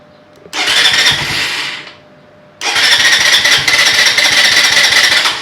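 A 2023 Venom SS3 KP mini 150 motorcycle cranks and starts with the choke fully on, running loud and close for over a second, cutting out, then firing again and running steadily with a rough, sputtering idle.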